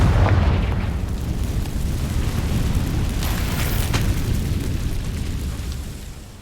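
The Confringo spell from the video game Hogwarts Legacy explodes in a loud rumbling blast that decays slowly over several seconds, with no talk.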